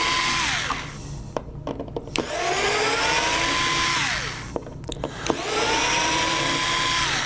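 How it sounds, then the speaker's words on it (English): A cordless electric screwdriver backs out the twelve screws holding a control panel during a battery replacement, each whirring run rising and falling in pitch, three loud close bursts separated by brief pauses and clicks. "So there's 12 screws that hold the control panel in place, and so all you need to do is just remove these 12 screws."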